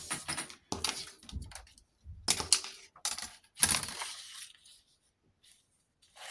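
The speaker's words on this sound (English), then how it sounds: "I'm just cutting that bit off." A blade cuts off a piece of material during an accordion craft project, giving a few close, quiet scraping and clicking bursts separated by short pauses, fading to near silence.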